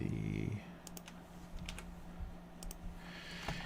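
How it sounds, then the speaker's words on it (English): Computer keyboard typing during a livestream, a run of light, irregular clicks and taps close to the microphone over a low steady hum, with no speech. "get the keyboard out."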